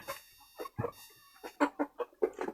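Hens clucking in a series of short, bursty calls, fairly close, with brief pauses between them and no talking.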